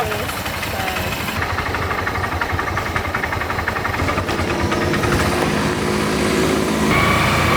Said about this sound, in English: So we're getting a lift with these two guys on motorbikes.